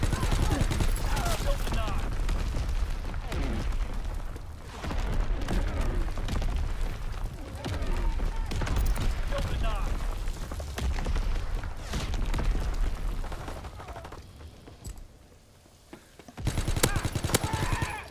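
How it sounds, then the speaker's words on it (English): Enemy artillery barrage in Call of Duty 2, dense and loud rolling booms and gunfire that run almost without a break, with voices talking underneath. "Incoming enemy artillery."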